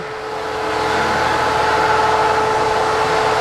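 Steady close drone of a vacuum cleaner pulling bed bugs into its nozzle, a tonal motor whine over a wide airflow hiss that swells up in the first half second and then holds level, with nobody speaking.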